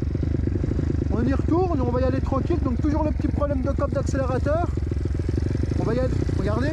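A Kawasaki KLX 160 motorcycle, its engine modified and with a throttle cable problem, rides off at an easy pace, its loud steady engine drone and revving pitch running under continuous talk throughout.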